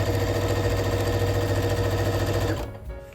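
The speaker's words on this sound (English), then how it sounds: "But actually I get to wind a bobbin with my new thread." Sewing machine winding a bobbin with new thread, a loud close steady mechanical whir with rapid rhythmic clatter that stops abruptly near the end.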